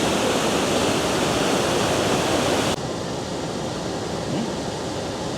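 Irrigation floodwater rushing in Lubao, Pampanga, a loud, steady broadband roar of flowing water, close by and unbroken, dropping abruptly to a somewhat quieter rush halfway through.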